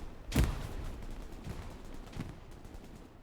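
Game gunfire from an esports match: one loud, sharp shot near the start, then a couple of fainter reports later over a steady background din.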